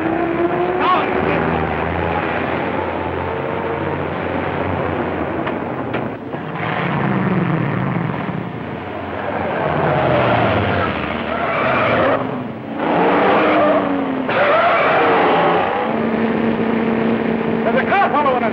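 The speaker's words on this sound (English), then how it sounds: "There's a car following us!" Car engines roar and tyres skid during a late-1930s film car chase, loud and continuous with rising and falling engine pitch, while voices shout over the action.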